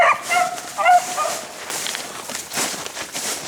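Rabbit hunting dogs give a few quick, high yips and barks at a moderate distance near the start, then the scene settles into rustling and movement through brush.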